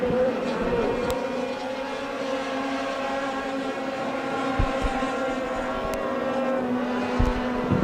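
Sport trucks race around a Wisconsin oval track at Wisconsin International Raceway, a continuous layered engine drone from several trucks at moderate distance, with occasional sharp thumps and faint crowd noise underneath.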